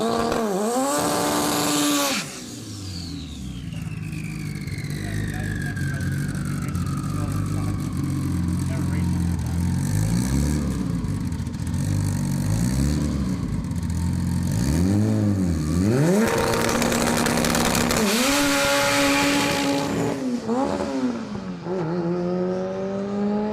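Drag racing car accelerating hard through its gears, engine tone climbing in repeated sweeps with drops at each shift, loud and close, with a voice talking over it.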